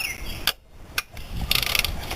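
A ratchet works the top bolt of the alternator on a 1998 Ford Mustang outdoors, giving a few short close clicking bursts with brief pauses, no talking.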